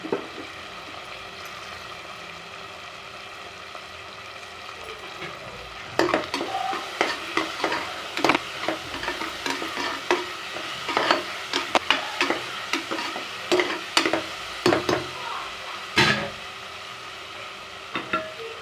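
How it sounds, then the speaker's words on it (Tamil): Ginger garlic paste frying with tomato in a pan for chickpea biryani: a low sizzle at first, then repeated close scraping and clattering stirs in an irregular rhythm over the hissing oil. "இப்போ இஞ்சி பூண்டு அரைச்சி வச்சதை போட்டுக்கலாம்"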